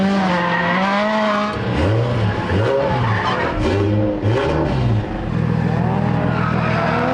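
A drift car at the Ebisu Minami circuit squeals its tires in long skids as the engine revs and drops in pitch, loud and close throughout with no talking.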